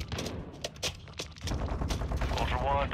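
Gunfire in Call of Duty DMZ, a video game: repeated shots and bursts trading back and forth, fairly close, mixed with game noise and talk.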